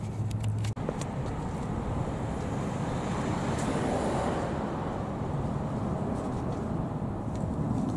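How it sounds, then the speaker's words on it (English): A garden hose sprays water onto car wheels in a steady, hissing rush that stays close and loud throughout, following a brief click at the start. "Let me get the water out here, and I'm going to hose it down now"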